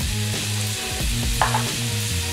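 Ginger hits a hot pan of steak stir-fry with a continuous, close, loud sizzle and hiss, while a low hum persists and a brief stir or scrape cuts in midway.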